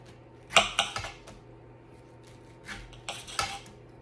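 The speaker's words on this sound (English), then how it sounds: "so I'm gonna cut some pineapple up" A kitchen knife works through fresh pineapple on a board, cutting it into chunks for a salad: a few crisp, clattering chops in a quick cluster, a pause, then another short run of cuts, close and fairly quiet with no talk.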